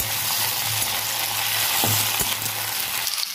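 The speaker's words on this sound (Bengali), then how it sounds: "সিমটা দিয়ে দেবো, সিমটাকে একটু ভাজবো" Flat beans hit hot oil with nigella seeds in a wok, producing a loud, dense, continuous sizzle up close, with a faint clink of a utensil partway through and no voices.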